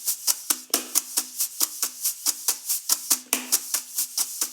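Brushes on a drum kit play a fast, steady triplet-rate funk groove: evenly spaced crisp swishes and taps with a few heavier accents, close and clear with no talking.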